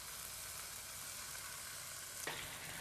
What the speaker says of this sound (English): so my tuna steak is searing in here